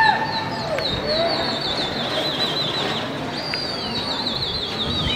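Pigeons in a loft, with high chirping calls and occasional wing flutters over steady outdoor background noise.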